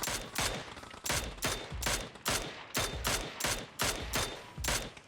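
Gunfire at targets in the video game PUBG comes in about ten short, sharp bursts of several rapid shots each, evenly spaced and loud, with brief silences between them.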